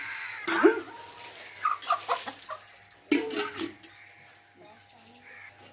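A hen offered at a village goddess festival in Jalipudu, West Godavari, clucks and squawks in loud bursts while being washed with water, with people talking nearby.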